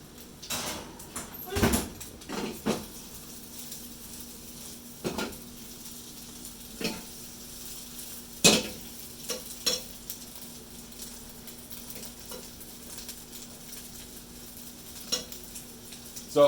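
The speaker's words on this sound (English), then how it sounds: "waiting for those Spatzle to cook up" Spätzle cooking in a pan in a kitchen, with faint sizzling under sparse scraping and clinking of a utensil against the pan, scattered knocks spread across the stretch at low volume.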